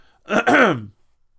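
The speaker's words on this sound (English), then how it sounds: "Sorry for coughing like that." A single harsh throat-clearing cough, close and fairly loud, lasting under a second with a brief break in the middle, followed by quiet.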